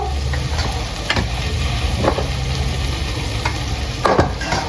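Spices such as red chilli, salt, turmeric, coriander-cumin, garam masala and sambar masala being stirred into food in a pan, a spoon scraping in steady strokes with a few sharper scrapes over a low continuous sizzle, close and moderately loud, no talking.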